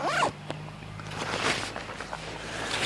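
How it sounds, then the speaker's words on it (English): A backpack side zipper is pulled in several quick rasping strokes, close up, with soft handling rustles between them. "easy access off this side zipper"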